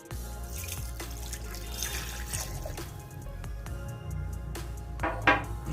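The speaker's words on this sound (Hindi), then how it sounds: "तो पहले ये 1 गिलास मिल्क ये देते हैं।" Water pours steadily into a glass for a glass of milk at the start of an Enduramass milkshake lassi recipe, a continuous liquid trickle and splash at close range, with no talking.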